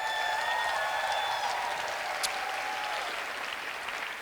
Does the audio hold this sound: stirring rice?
no